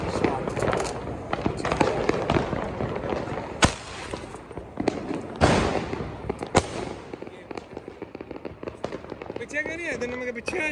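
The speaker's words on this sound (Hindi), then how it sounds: "सारी जगह पटाखे चल रहे हैं यहाँ पे" Diwali firecrackers bursting all around: several sharp, loud bangs scattered irregularly, some close and some farther off, over a background of crackling and people talking.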